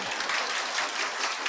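Students clapping in a classroom during a Rajasthan history lesson, a brief dense burst of hand claps, fairly close and steady.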